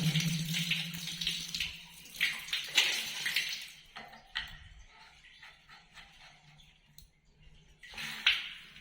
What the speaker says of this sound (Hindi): ये देखिए हमारा यहाँ कनेक्शन से पानी आना चालू हो गया है।